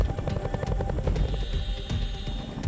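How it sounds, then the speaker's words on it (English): A military helicopter during sling loading, its rotor giving a steady rhythmic thumping with a continuous engine whine, loud and sustained. "Sling loading operations are one of the primary reasons why helicopters remain so vital to militaries"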